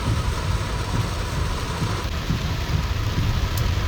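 Continuous roar of heavy monsoon rain in Mumbai, loud and unbroken from start to finish, with a faint low rumble beneath.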